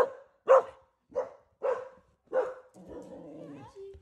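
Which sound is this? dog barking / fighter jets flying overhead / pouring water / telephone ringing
dog barking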